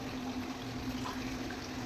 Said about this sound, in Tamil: நம்ம தண்ணி ஊற்ற போகிறோம்.